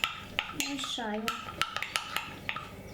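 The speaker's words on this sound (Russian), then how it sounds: "Мешаю" Mug cake batter stirred with a spoon in a mug: quick, close clinks and taps of metal on ceramic come at an uneven pace, with a brief vocal sound in the middle.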